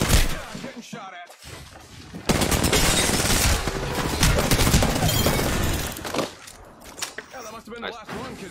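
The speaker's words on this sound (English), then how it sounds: "Shots fired" Video game gunfire erupts in a dense, loud burst of rapid shots and crashing impacts that lasts several seconds, with quieter scattered shots before and after it. Players talk over the action.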